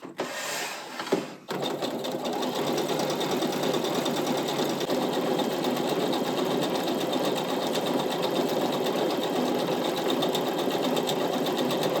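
A sewing machine runs an overcast stitch along a fabric edge in a continuous fast mechanical whir with a rapid needle rhythm, loud and close, after a brief handling sound at the start.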